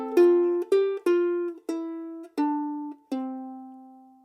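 Ukulele chord melody for bars 3 and 4 of a song, with six plucked and strummed notes and chords at a steady, unhurried pace, each ringing out clearly and close before the next attack.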